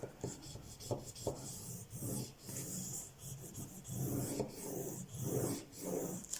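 Paper being scored and folded on a small scoring board for a craft pouch, heard as close, repeated rubbing and scraping strokes with soft rustles between them, moderately loud and without talk.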